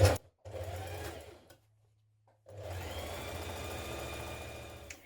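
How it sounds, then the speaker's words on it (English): A sewing machine stitches a 1.5 cm seam allowance on a sweatshirt sleeve, with two steady motor runs separated by a short quiet gap, close and fairly loud, with faint handling sounds at the start. "Let's sew that seam in place now."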